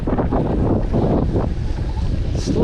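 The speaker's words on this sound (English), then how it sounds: "Slight headwind." Steady headwind buffeting the microphone on a moving Revolt electric motorcycle, a loud continuous roaring rumble that never lets up.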